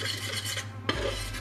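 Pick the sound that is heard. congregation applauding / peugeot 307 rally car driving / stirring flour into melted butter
stirring flour into melted butter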